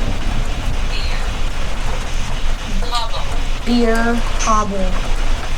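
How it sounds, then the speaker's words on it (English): Steady rain hisses throughout, with low rumbling underneath at a haunted house while people talk over it. "This rain's making me mad."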